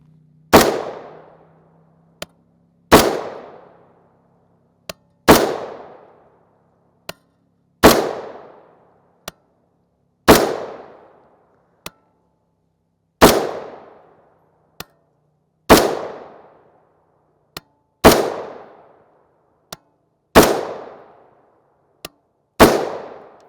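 Rifle shots from 5.56x45mm M193 55-grain FMJ ammunition, ten loud sharp cracks spaced about two and a half seconds apart, each with a short decaying echo, fired alone with no talk.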